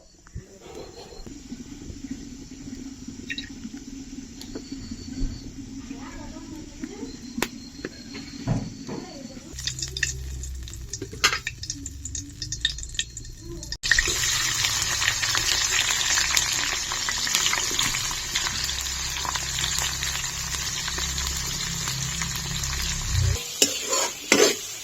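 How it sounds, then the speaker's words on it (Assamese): Onions frying in a pan while being stirred, a steady sizzle that turns louder and busier partway through, with scraping stirs throughout and a voice briefly heard early on, cooked at home for an Uruka night feast. "পিঁয়াজটো ধুনীয়াকৈ ভাজি লৈছোঁ।"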